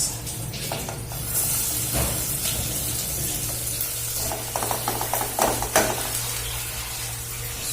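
Chopped onion frying in hot cooking oil for a Bangladesh-style chicken masala, giving a steady bright sizzle and hiss throughout, with occasional clinks of a utensil against the pan over a low background hum.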